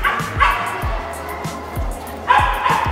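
Several dogs bark and yip loudly and close by while waiting in a crowded line for vaccinations, with sharp repeated barks and whimpers mixed with background voices.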